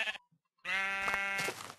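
A Minecraft sheep gives a short bleat, then after a brief silence a longer, loud, wavering bleat close by, with no talking.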